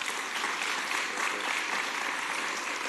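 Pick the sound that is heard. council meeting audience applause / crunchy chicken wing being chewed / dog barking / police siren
council meeting audience applause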